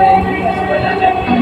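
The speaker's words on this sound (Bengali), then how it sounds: "একই সাথে দুটি মেট্রো পাশাপাশি চলে গেল।" Two Dhaka metro trains pass side by side, a steady loud rumble of rail and carriage noise with tonal hums filling the whole short stretch, heard from on board.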